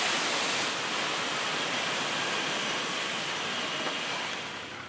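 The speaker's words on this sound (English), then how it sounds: "the spears are rapidly cooled under a final ice water bath" Freshly harvested asparagus spears being cooled under an ice water bath in a packing shed, a dense, steady rush of cascading water that holds loud and even throughout and tapers slightly at the end, with no voices.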